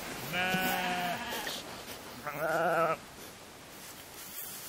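A Northern European short-tailed sheep bleats twice, two clear, wavering calls close by, the first longer and the second shorter, with quiet background in between and after.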